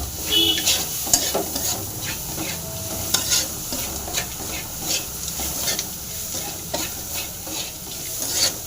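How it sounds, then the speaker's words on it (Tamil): Bitter gourd fries and gets stirred in a pan, a steady sizzle with scraping spoon strokes and occasional clinks running throughout, fairly close and with no talking. "அப்படியே ஃப்ரை ஆகுதுங்க"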